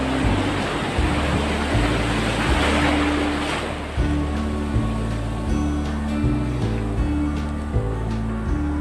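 Ocean waves wash and break along the shore in a continuous broad roar with gusty wind noise, while a low boat engine hums and pulses steadily beneath.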